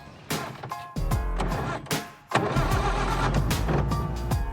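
A 1946 Jaguar engine cranks over with the starter in several loud, uneven bursts, then catches into a rough, steady running rumble close by.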